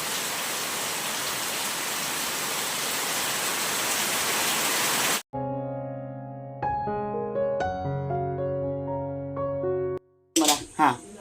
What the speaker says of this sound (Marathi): पाऊस थोडा भरला आता